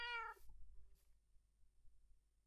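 A cat in the Minecraft video game gives one clear, close meow, followed by a short, fainter second call against quiet background hum.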